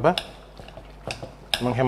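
Boiled potatoes being mashed right in a nonstick Teflon wok with a metal utensil: a few scattered scraping knocks against the pan, with a voice briefly audible at the start and end.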